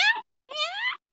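A house cat meows twice, close and clear, first a short rising call then a longer drawn-out one, with a quiet gap between.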